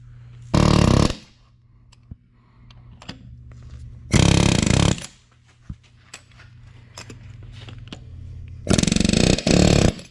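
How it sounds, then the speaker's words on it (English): Loud bursts of a power drill grinding through exhaust bolts on a junkyard 6.2-litre LS engine, three separate runs with pauses between, over a steady low mechanical hum and occasional clicks. "costs so much to drill out every single exhaust bolt"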